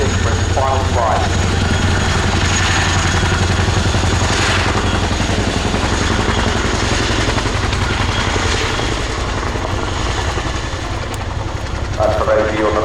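A Royal Air Force Boeing Chinook HC6 twin-rotor helicopter on the ground at an air show, a loud continuous rotor and engine roar throughout, with a commentator talking over it.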